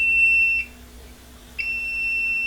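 Steady electronic beeping tone from an Arduino PLC annunciator panel buzzer alarm, sounding continuously, cutting out for about a second, then resuming, loud and alone over a low hum.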